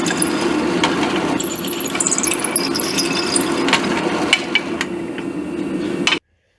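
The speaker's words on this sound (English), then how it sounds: "But for now, let me drill these 2 3/8 holes." A drill boring two 3/8 inch holes during custom power-steering work on a 1940 Chevy Business Coupe, close and loud, with a steady whirring grind and scattered clanks and knocks of metal before stopping abruptly.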